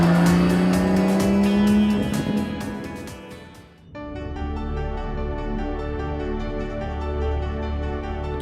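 A fast BMW M4-based car is driven hard through corners, its engine roaring loud and steady with a brief dip and shift in pitch before it climbs again, close and continuous with no talk.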